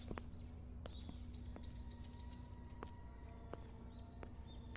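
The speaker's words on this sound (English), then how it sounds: "Okay, we can hear some birds." Birds chirp in a scary itch.io video game, with short bright tweets and a quick run of rising calls over a faint steady background hum, fairly quiet and without talk.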